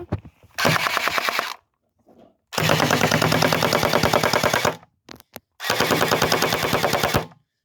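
Rapid bursts of gunfire from a gun shooting plastic pellets, with orange plastic on the tip, in three long loud rattling volleys separated by brief pauses, with no talking.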